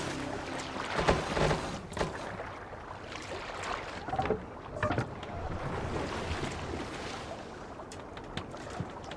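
A Viking longship is rowed across open water in Assassin's Creed Valhalla, with steady sloshing, splashes and wind-blown waves running throughout and a few louder oar strokes standing out.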